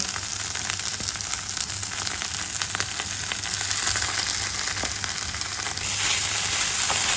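Borscht vegetables frying in a pan with tomato puree just added, a steady close crackling sizzle with small pops and a slight lift near the end, no talk over it.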